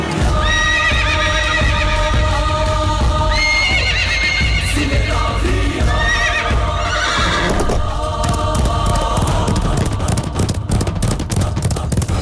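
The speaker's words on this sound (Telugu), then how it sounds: "సినిమాలలో కదా గుర్రాలు ఉరికినట్టే ఎట్లా ఉరుకుతున్నాయో, అది కూడా మళ్ళా లండన్ రోడ్ల మీద" Escaped army horses gallop along London roads, hooves clip-clopping rapidly on pavement as loud whinnies and neighs ring out, close and busy, with traffic noise behind.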